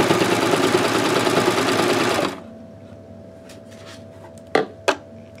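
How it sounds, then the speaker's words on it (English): A sewing machine stitches the side seams of a split hem in a steady, rapid close-up whir for about two seconds, then stops, leaving a quiet hum and a couple of sharp handling clicks. "stitch with a 1/2 inch seam allowance all the way up"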